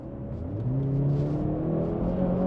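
Mercedes-AMG C63 S E Performance Estate accelerating on kickdown in sport mode with the exhaust set quiet, a steady rising engine and electric drive whir heard from inside the cabin, continuous and moderately loud with no talk.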